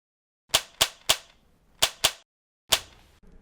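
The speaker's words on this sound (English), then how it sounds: "that's a recording of me firing a Nerf gun" Recorded Nerf gun fires six sharp, snappy shots in an uneven rhythm, each a crisp close pop with a short decay against silence.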